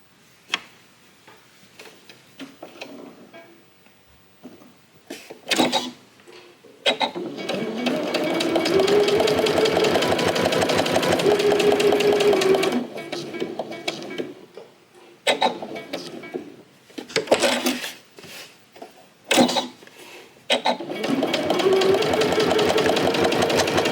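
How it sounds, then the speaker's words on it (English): Sewing machine stitching fabric for a pouch, running in bursts of steady rapid mechanical ticking, with one long run in the middle and shorter runs separated by pauses and small handling sounds. "I'm just going to sew all the way up to that point"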